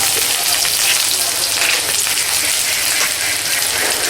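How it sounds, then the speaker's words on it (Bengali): Eggs hit a pan of browned onions and fry with a loud, continuous sizzle and crackle, close and unbroken, with no talk over it. "এখন পেঁয়াজের ভাগগুলো বাদামি হয়ে গেছে এখন আমরা ডিম দিয়ে দেবো"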